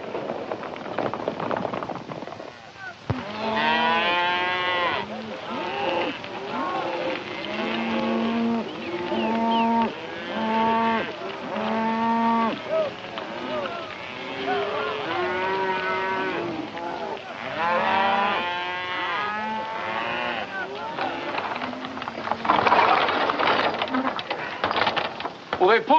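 Cattle moo repeatedly, many drawn-out calls overlapping from a herd, loud and steady throughout with no speech.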